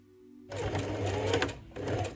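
A home sewing machine runs a fast burst of stitches through fabric for about a second, stops briefly, then starts again, the short runs of a reverse stitch.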